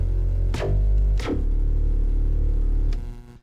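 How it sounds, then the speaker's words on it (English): An Arturia MiniBrute 2 analog synthesizer plays a bandpass filter lead patch, a percussive FM bass tone with buzzy held notes and quick pitch sweeps, loud and sustained, then cutting off at the end. "So it's a percussive FM bass sound."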